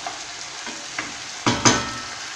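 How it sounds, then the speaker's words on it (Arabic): Chicken with chopped tomatoes frying in a pan for shawarma, a steady close sizzle with a few stirring scrapes and clinks near the end, no voices. "نزيدها للدجاج تاعي، نزيد له حوالي 2 دقائق ونطفي عليه"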